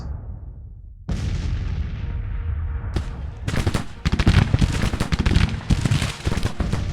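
Civil War video game troops open fire in a ragged volley: one early crack, then a thick cluster of rapid musket shots rolling together and continuing loud to the end.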